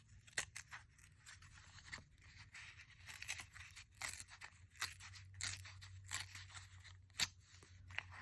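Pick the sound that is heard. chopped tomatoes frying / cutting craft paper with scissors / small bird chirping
cutting craft paper with scissors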